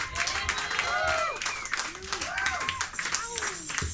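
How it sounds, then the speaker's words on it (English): Scattered applause and cheers at a live pub show as a performer finishes, with whoops and excited voices rising over uneven clapping. "Another round of applause for Miles."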